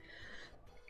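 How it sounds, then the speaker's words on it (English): A single short, sharp cough bursts out at the very end after near silence. "Sorry, I've still got a bit of a cough."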